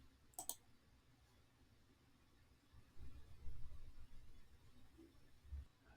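A single sharp, quick computer mouse click near the start, close and faint, followed by quiet low rumbling background noise.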